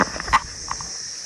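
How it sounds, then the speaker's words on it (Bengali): A steady, high cricket chirp drones continuously in the background of a hill village in Kalimpong, with a couple of faint soft thumps near the start. "আর এইদিকে ঝিঝি পোকার ডাক"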